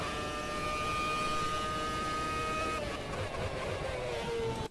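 A V8 Gen 1 race car engine in the Automobilista video game holds a steady, high whining drone, then shifts pitch partway through, with a busy hum underneath.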